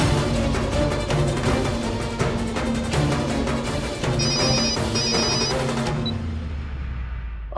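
A telephone rings loudly and repeatedly in a regular electronic pattern amid dramatic background music, which fades out near the end.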